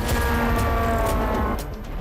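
Repeated heavy explosion booms and crashes in Kyiv during the Russia-Ukraine war rolling over a dense low rumble, with several sharp bursts before the noise drops slightly near the end.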